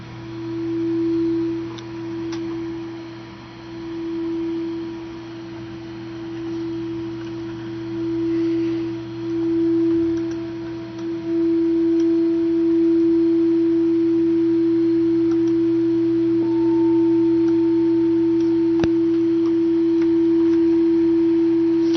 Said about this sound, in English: I actually have a pitchfork or a tuning fork here that I've done this with. It's a DNA tuning fork.